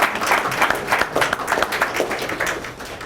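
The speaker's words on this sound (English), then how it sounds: "And we want to give you guys a round of applause." An audience at a city commission meeting applauds the adults accompanying young people, with a steady, moderately loud wash of many hands clapping throughout.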